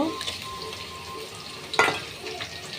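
Onions frying in a pan as onion, garlic and ginger pastes go in, a steady soft sizzle with a sharper burst of spluttering midway as paste hits the hot oil.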